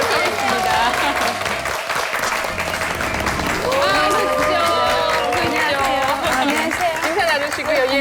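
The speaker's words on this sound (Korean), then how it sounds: "박수로 맞이해보도록 하겠습니다" A studio audience applauding continuously to welcome a guest onto a stage, steady and loud throughout, with crowd noise and some voices mixed in.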